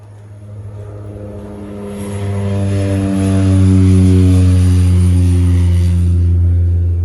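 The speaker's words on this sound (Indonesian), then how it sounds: "Pesawatnya naik lagi." Susi Air propeller plane climbing away after an aborted landing at a small airstrip: a steady droning engine hum with strong harmonics that swells louder over several seconds, then holds loud and close.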